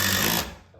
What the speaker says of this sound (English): I've just got an old cut off piece of wood here and I'm just gonna drill it into place